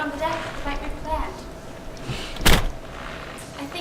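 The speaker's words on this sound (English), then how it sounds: "I think I heard a car door." A car door shuts once, a short solid thud heard from outside in the rain, standing out briefly against soft background voices and room sound.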